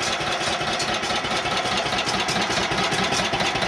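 A Cub Cadet 1650 hydrostatic garden tractor with a 30-horsepower Generac engine idles close by, a steady, even rumble with a faint rhythmic pulse that runs unbroken from start to end, with no voices over it.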